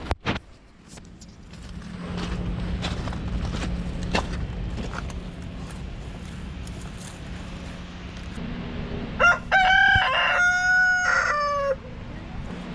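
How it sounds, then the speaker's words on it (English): A rooster crows outdoors near a yard, one long rising-and-falling call late in the clip, over a steady engine idle and scattered small knocks. "I heard the rooster over here just a minute ago."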